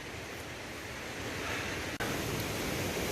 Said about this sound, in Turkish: Şimdi dere kısmına geldim.